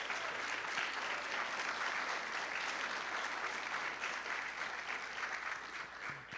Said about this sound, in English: So let's clap it up one more time for them